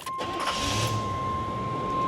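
A 1988 Chevrolet Monte Carlo LS with a 305 V8 (5-liter) and 4-speed automatic starts with a brief crank, then settles into a steady, loud rumble close by, with a constant high-pitched tone running throughout.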